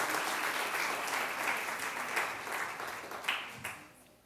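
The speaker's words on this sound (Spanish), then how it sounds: "si le damos otro aplauso al nombre del Señor?" A church congregation gives sustained applause during a Spanish-language sermon, a thick wash of many hands clapping that holds steady and then tapers off toward the end.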